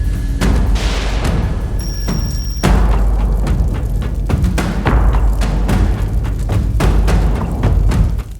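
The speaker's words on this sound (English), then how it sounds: "the ammunition in the truck exploded, causing a huge fire" Ammunition in a truck exploding after a drone strike destroys the truck and its cannon, heard as a continuous loud roar of blasts with repeated sharp booms and thuds throughout.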